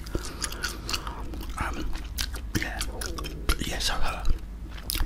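Gum chewed close to the microphone in an ASMR setting, with moist clicks and smacks repeating steadily under soft whispered talk throughout.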